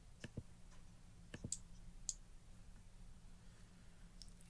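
Computer mouse clicks on an on-screen OK button: several faint, sharp, separate clicks spaced irregularly over a quiet room hum, no voice.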